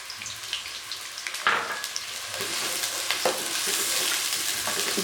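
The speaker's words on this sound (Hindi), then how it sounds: "ऑयल गर्म हो चुका है तो अब हम इसमें प्याज शामिल कर देंगे" Onions sizzle and fry in hot oil in a pan for a potato and egg curry, a steady crackling hiss that builds louder after a sharp clatter partway through, with no talk.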